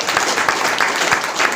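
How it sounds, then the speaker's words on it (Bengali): Steady audience applause from a crowd, dense continuous clapping that stays loud throughout, with no talk over it. "আজকে ওনার জন্য হাততালি তো দেবই"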